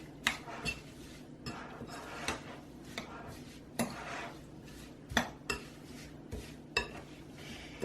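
A spoon stirs a thick Mounds bar filling mixed with maple syrup in a bowl, making repeated clinks and scrapes against the sides at an uneven rhythm, close and fairly quiet.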